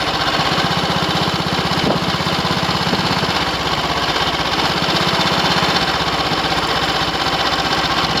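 Ariel 500 motorcycle engine running steadily during a test ride, a loud, close, continuous thumping single-cylinder drone with rapid regular pulses and no talk.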